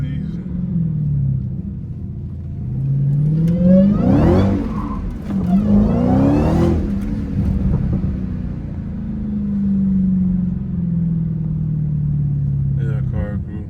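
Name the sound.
Dodge Hellcat car revving while sliding through turns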